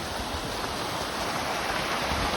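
A small waterfall in Japan at midday, steady broadband rush of falling water close by, continuous and fairly loud with no voices.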